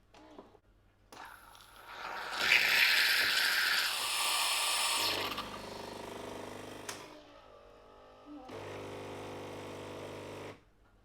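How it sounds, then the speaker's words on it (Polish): A Saeco Minuto Cappuccino coffee machine's milk frother whirs and hisses while foaming milk, a strong foaming surge that fades into a lower mechanical hum, with further buzzing bursts. "Mleko ubija się szybko i tworzy bardzo ładną pianę"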